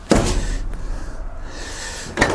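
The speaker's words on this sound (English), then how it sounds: "let's slam the door" A Toyota Proace Electric cargo van door slams shut with a sharp near thud, followed by a quieter rattle and a second knock about two seconds later, with no talk.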